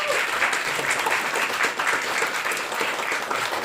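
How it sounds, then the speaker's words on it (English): A live comedy festival crowd gives a dense, continuous round of applause that stays loud and even throughout, without speech over it. "Big round of applause to Dan, please"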